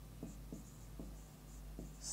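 A chemical name is written on a board in short strokes, about four faint taps and scratches spaced apart over a low steady hum, with no speech.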